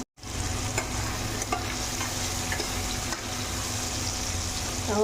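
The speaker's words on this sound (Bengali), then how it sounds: "আলুটা একটু ফ্রাই করে আলু ফ্রাই করে নেব" Potato pieces frying in oil for a Bengali okra and potato curry. A loud, steady sizzle runs after a brief silent start, with a few faint stirring clicks over it and no talk.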